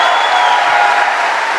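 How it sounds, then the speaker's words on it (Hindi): Sustained applause from an audience at a Hindi-language business event, a steady dense wash of clapping filling the whole moment without any talk over it. "मैं चाहूंगी इससे ज्यादा जोर से ताली बजा सकते हैं आप मेरे मेंटर के लिए।"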